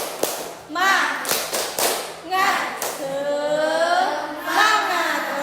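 A group of children clap the short tepuk semangat rhythm in a classroom, sharp hand claps in quick patterned bursts mixed with loud shouted chanting voices.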